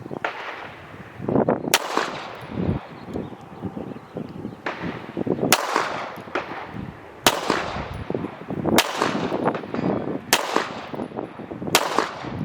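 A Phoenix Trinity Honcho V2 air rifle is fired several times while grouping at about 15 yards, each shot a sharp crack spaced a second or more apart among softer handling and rustling noises, with no talking.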